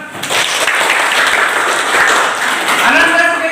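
Children in an Indonesian classroom clap together on cue, a dense burst of clapping that holds steady for a few seconds, with faint voices in the room beneath it.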